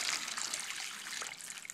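A flute headjoint is dipped into tarnish-removing solution, giving soft, close liquid splashing and trickling that moves in small irregular bursts without any voices.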